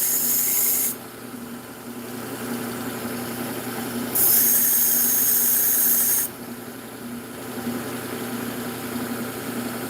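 A serrated kitchen knife is sharpened against a powered abrasive, giving a continuous grinding rasp over a low motor hum, with two louder, shriller stretches of contact and no talking.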